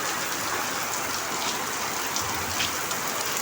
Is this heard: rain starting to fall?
yes